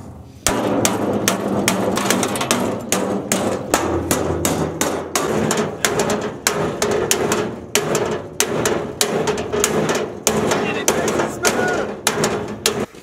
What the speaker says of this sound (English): after some pounding, smooths it out, like so